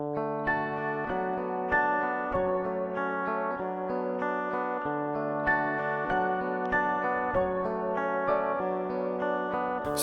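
Instrumental intro of a song from an EP: steady sustained harmonic chords with a layered melodic line, playing continuously at moderate level with no voices.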